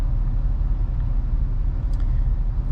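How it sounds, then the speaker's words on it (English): Heavy highway traffic on a multi-lane roadway, a dense continuous low rumble of passing cars and engines, close and loud, with no distinct gaps between vehicles. "Very heavy traffic. You can see both ways heavy traffic."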